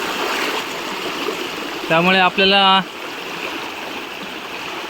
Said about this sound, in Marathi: आज खूप पाणी आहे, कारण सकाळपासून पाऊस पडत होता, त्यामुळे भरपूर पाणी आहे इकडे